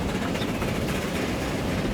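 A steam train passes by in the Transport Fever 2 game, a dense rumbling roar with faint rhythmic clatter of wheels, loud and continuous.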